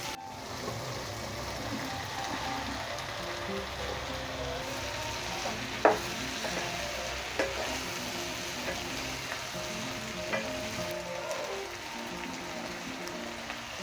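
Zucchini (tori) fries and is stirred in a pan with tomatoes, a soft steady sizzle under a few light scrapes and clinks of a spoon, fairly quiet and without voices.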